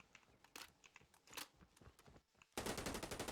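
Rapid automatic gunfire in the mobile shooter Call of Duty Mobile during a deathmatch, with scattered quiet shots and short bursts, then a sustained loud stream of fire near the end.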